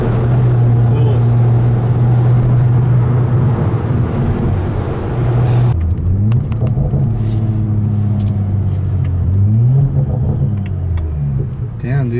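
BMW N55 car running about 14 PSI of boost, its exhaust burbling and rumbling loudly and continuously while accelerating, the engine note rising and falling through gear changes, with voices talking over it.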